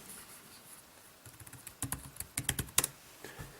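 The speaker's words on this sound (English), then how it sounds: "if we want to use the keyboard, just start typing in." Rapid, uneven keystrokes tapped on an Asus Transformer Prime keyboard dock, starting soft and growing into brisk clusters of clicks close by, with no talking.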